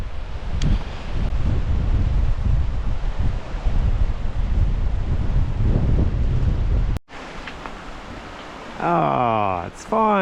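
Strong, cold winter wind buffets the microphone in heavy gusts for several seconds, then cuts out, followed by a voice speaking close by.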